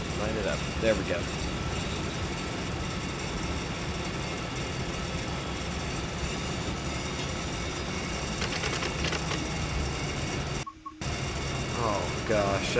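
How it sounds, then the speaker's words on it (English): Continuous mechanical grinding from a train in a CalTrain driving simulator game, a steady rough rumble with faint clanks running under quiet background sound. "Oh gosh, that grinding sound is terrible."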